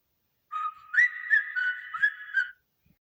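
Several short, high whistles in quick succession, calling someone over, clear and fairly close in an otherwise quiet space.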